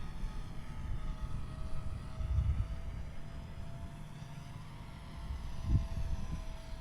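A Rage R/C Taylorcraft Golden Age micro ready-to-fly airplane on its maiden flight hums steadily at a distance, a faint continuous electric motor and propeller drone with a slight swell near the end.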